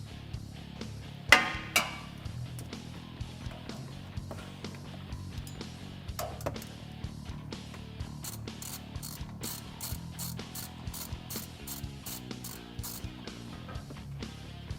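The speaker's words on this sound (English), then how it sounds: "now we're going to remove our oil filter cap. It takes an 8mm socket" A ratchet with an 8mm socket works loose the oil filter cap bolts on a Can-Am Maverick Trail, giving quick bursts of close clicking with pauses and small metallic knocks between.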